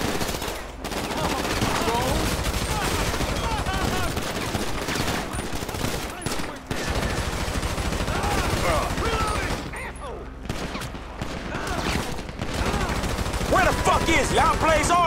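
Sustained gunfire in GTA V during a mission shootout, with rapid automatic bursts and repeated loud shots running almost continuously under shouted voices, and a brief pause partway through.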